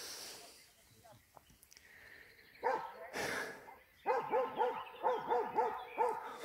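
A tricolour Posavac hound barks repeatedly in a quick, rhythmic series of loud, close yelps, after a quieter stretch with a few scattered noises.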